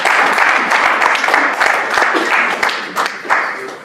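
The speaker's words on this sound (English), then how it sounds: "I think that deserves a clap" Audience applause fills the room, a dense, steady wash of many hands clapping close by that carries on without a break and eases off slightly toward the end.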